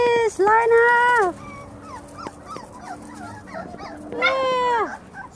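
A puppy lets out drawn-out, high whining yelps at the start and again near the end, with quieter scattered yips and faint voices in between.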